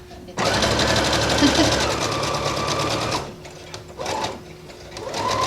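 A sewing machine runs in reverse along a skirt seam, a steady close whir for about three seconds, then short stop-start bursts of stitching.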